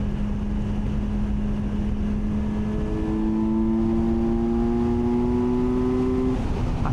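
A Kawasaki Versys 1100 SE LT motorcycle accelerates hard through its gears on a quick shifter, the steady inline-four engine drone rising in pitch with brief dips at each clutchless upshift, close and loud under constant wind rush.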